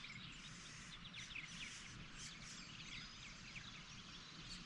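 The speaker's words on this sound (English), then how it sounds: "And we have some red-winged blackbirds mixed in." Faint outdoor calls of red-winged blackbirds, a scattering of chirps and chattering notes rising above low steady background noise, moderately distant.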